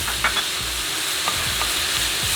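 Onions and minced garlic sauté in melted butter and olive oil, giving a steady close-up sizzle broken by a few soft scrapes of stirring.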